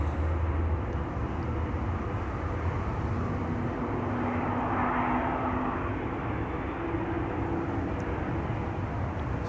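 An airliner at Schiphol Airport with its flaps still set for takeoff gives a continuous, loud engine roar that holds steady throughout, with no other sounds rising above it.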